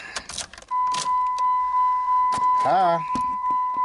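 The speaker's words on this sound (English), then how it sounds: "Now I'll turn the ignition on." Ignition of a 2010 Jeep Patriot switched on, bringing a steady electronic warning tone that holds on, amid a few clicks and a brief whirring sweep, with someone talking at the start.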